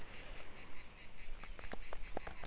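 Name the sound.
crickets chirping outdoors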